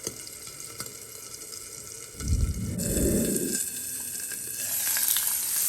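Vanjaram fish sizzles in oil under a lid in a covered pan, a steady frying hiss that swells louder midway with a burst of low bubbling, with no talking.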